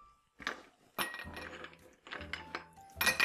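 Glassware at a home cocktail bar clinks and knocks in several bright, close bursts with quiet gaps between them, alone with no talking.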